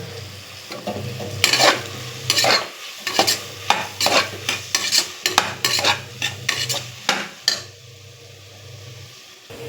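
Mushrooms fry for biryani with a steady sizzle while a spoon stirs and scrapes the pan in repeated sharp strokes; close and fairly loud, no voices.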